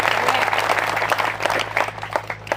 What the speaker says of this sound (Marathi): त्या बांधवांसाठी जोरदार टाळ्या देऊया बांधव